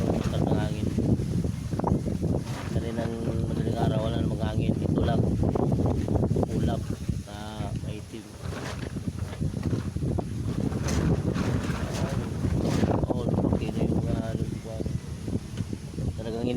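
Strong monsoon wind buffets the microphone in broad gusts, with voices talking over it and the rumble of a boat underneath.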